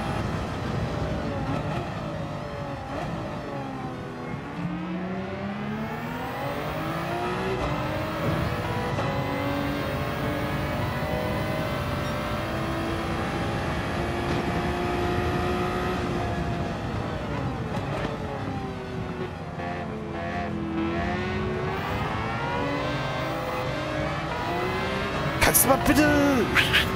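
A race car engine in Gran Turismo 7 howls steadily, its pitch sweeping up and down through gear changes and corners over a long stretch, with someone talking now and then over the constant drone.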